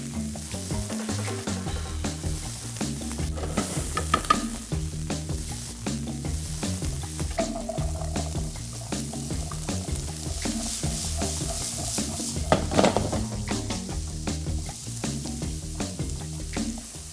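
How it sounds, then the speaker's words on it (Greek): Vegetables sautéing in a hot pan give a loud, continuous sizzle and crackle, with occasional stirring scrapes, close up and steady throughout, with no talking. "Όσο σοτάρουμε λοιπόν τα λαχανικά"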